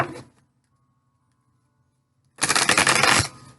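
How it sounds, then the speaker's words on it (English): A deck of tarot cards is shuffled close by in one dense burst of riffling and sliding, after a brief rustle at the start and a quiet pause. "I pre-shuffled, but I'll shuffle again."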